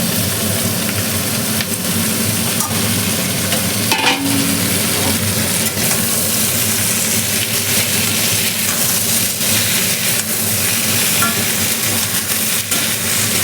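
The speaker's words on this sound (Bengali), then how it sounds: "এবার আলুটা কাঁচকলাটা দিয়ে দেবো।" Potato and green banana pieces sizzle in a frying pan, a loud continuous crackle and hiss with faint scraping of stirring and no talk.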